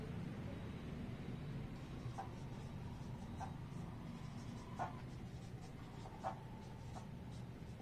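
A pen writes notes by hand in a quiet room, giving faint intermittent scratches and taps on paper over a low steady background hum.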